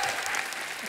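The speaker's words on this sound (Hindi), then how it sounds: "एक बार जोरदार तालियां हो जाए गैंग्स ऑफ वसेपुर की पूरी स्टार कास्ट के लिए।" A studio audience at a comedy talk show applauds the Gangs of Wasseypur star cast, a brief, dense burst of clapping.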